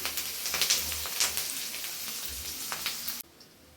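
Garlic and two sprigs of curry leaves sautéing in a pan for a Tamil kara kulambu, a soft, crackly sizzle with scattered pops, fairly quiet and steady before cutting off abruptly near the end.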